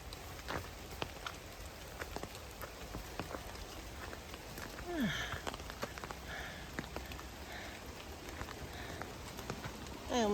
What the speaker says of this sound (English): And now I have to go out into this rain